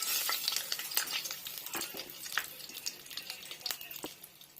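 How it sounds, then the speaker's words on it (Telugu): Stone flower, cardamom and cloves sizzle in hot oil in a pan, a steady crackling fry broken by sharp clinks and scrapes of stirring. "ఇలా ప్యాన్ పెట్టుకొని ఆయిల్ హీట్ ఎక్కిన తర్వాత స్పైసెస్ వేసుకుంటున్నామండి."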